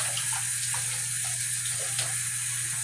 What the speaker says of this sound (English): I am going to empty some of this water out